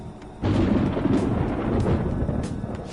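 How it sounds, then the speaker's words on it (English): Rumbling thunder ahead of rain in the Persona 5 Royal video game, a low sustained roll that swells suddenly and rumbles on steadily, with faint crackling on top and no talking. "It sounds like it's going to rain."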